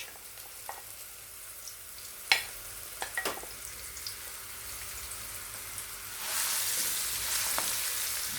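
Alexandria-style liver frying in a pan, with the rest of its marinade poured in: a few quiet clinks and scrapes at first, then a loud, steady sizzle that bursts up and holds for the final seconds.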